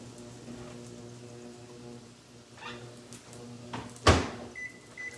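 A microwave oven hums with a steady tone in a home kitchen while breakfast is made, and a sharp door thud lands near the end, with a short beep right after it.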